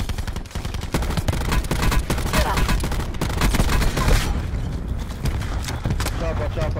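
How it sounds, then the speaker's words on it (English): Dense gunfire and explosions in a Call of Duty Black Ops 4 match, including a grenade blast amid rapid rifle bursts, loud and continuous, with players talking over the action. "Grenade in."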